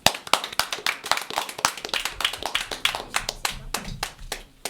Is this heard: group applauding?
yes